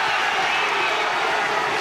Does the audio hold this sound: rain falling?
no